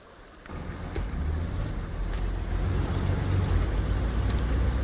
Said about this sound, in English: that water is still really loud to me